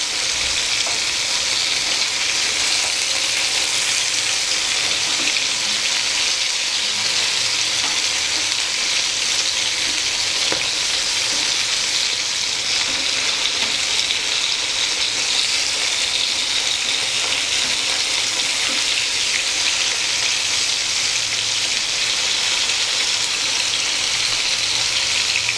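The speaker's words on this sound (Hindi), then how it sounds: "इसको भी पहला धीमे आंच में मैं 1 मिनट के लिए फ्राई करूंगी" Rava-coated bombil fish fries on a tawa over a low flame, producing a continuous, even sizzle and crackle that holds steady and close throughout, with no voices.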